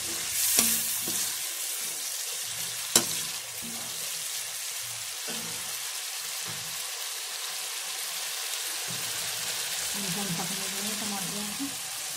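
Finely chopped tomatoes frying in masala in a pan for mustard greens, a continuous sizzle broken by a few sharp clinks and scraping stirs.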